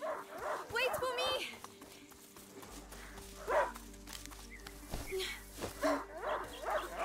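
Leo, a hunting dog in the video game A Plague Tale: Innocence, barks and yips repeatedly at close range, mixed with game voices and a person talking.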